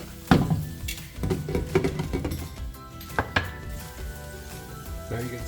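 Potatoes sautéing in a pan for Surati-style batata poha: a soft sizzle under repeated spatula scrapes and sharp metallic clanks against the pan, fairly close, with a few louder knocks.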